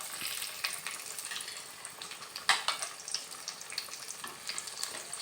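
Dried red chillies and bay leaves crackle and sizzle in hot oil, a fairly quiet, uneven frying hiss broken by a few sharper pops and spits, with no voices.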